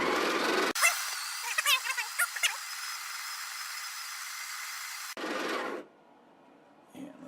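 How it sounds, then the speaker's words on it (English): The built-in grinder of a Breville BES870XL espresso machine running, a steady whirring hum with short mechanical chatter early on, cutting off abruptly after about five seconds, followed by a brief softer burst. "when you're going to a lower number or finer grind, you need to do that while the grinder is running"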